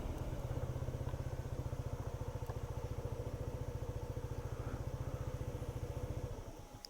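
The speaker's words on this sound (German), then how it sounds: "Okay, dauert ein bisschen, bis er ausgeht." A Zontes 125X scooter engine idles at a traffic light, a steady close-up rapid low putter with even pulses that fades slightly at the end as it shuts off.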